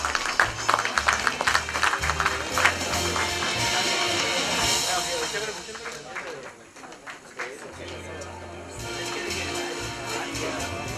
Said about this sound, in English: Can we hear it for Mrs. Bharti Lele, ladies and gentlemen? A huge round of applause.